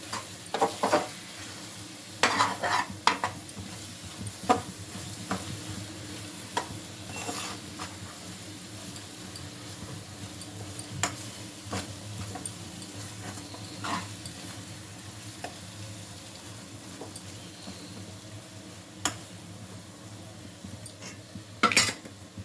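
Spatula stirring eggs through carrots in a sizzling frying pan, with a steady faint sizzle and scattered scrapes and clinks of utensil on metal, no talking.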